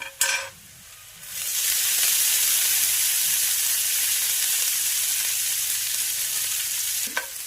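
Dried fish sizzles steadily in a hot pan with golden-browned onions and garlic, a loud continuous frying hiss after a brief clatter at the start, with no voices.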